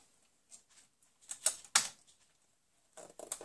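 A sewing machine stitches fabric near a zipper in short quick bursts of rapid mechanical clatter, with brief pauses between runs and no talk.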